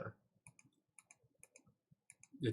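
A computer mouse clicks quietly and repeatedly in a steady series of single clicks while animation layers are toggled on and off, with faint, soft speech between them.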